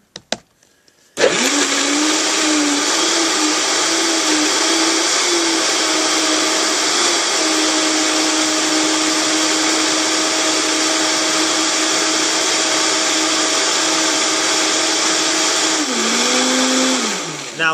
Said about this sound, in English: And then I'm going to blend, baby.